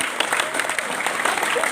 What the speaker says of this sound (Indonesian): beri tepuk tangan yang meriah ke gong kita Darmo